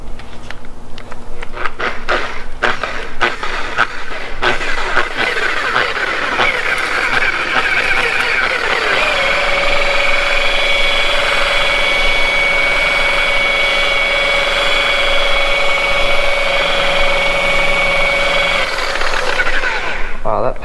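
A rotary buffer with a wool pad polishing car paint using Menzerna compound, a loud steady motor whine that rises and holds at a high pitch for the whole stretch.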